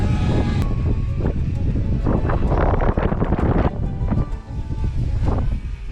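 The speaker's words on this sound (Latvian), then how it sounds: "Kā tas nabaks cīnās ar vēju" Strong wind buffets a drone flying near a Norwegian canal lock, a loud, rough, continuous rumble of gusts across the microphone.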